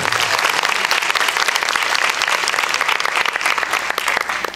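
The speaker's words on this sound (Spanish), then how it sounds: "¿Cuántos le dan un aplauso a Dios por eso?" A church audience at a live worship gathering breaks into loud, sustained applause, a thick crowd of clapping hands with a few faint cheers mixed in, filling the space without pause.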